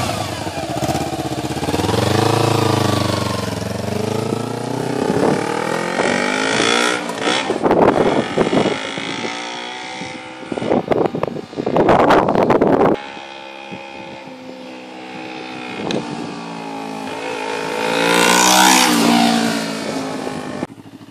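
A Kawasaki Ninja 250 motorcycle engine revs up and down repeatedly while being ridden, its pitch climbing and falling in close, loud sweeps with wind buffeting the microphone throughout.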